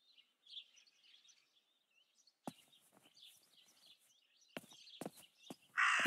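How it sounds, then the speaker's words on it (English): Raven in the video game Martha is Dead gives several harsh, rasping caws spaced irregularly over soft background chirping, ending in a sudden loud burst of noise. "That raven is making a big fuss."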